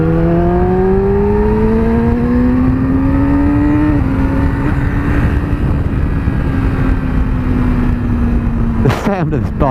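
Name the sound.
2017 Yamaha R6 motorcycle engine revving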